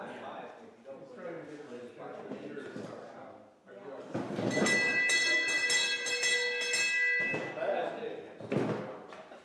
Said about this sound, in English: Where's the church bell?